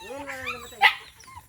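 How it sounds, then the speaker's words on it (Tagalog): A dog gives one sharp bark, close by, right after a person speaks briefly. "Saan galing aso na yan?"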